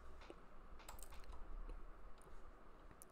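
Soft, quick keystrokes clatter steadily on a computer keyboard, quiet and close, with irregular clicks and no voices.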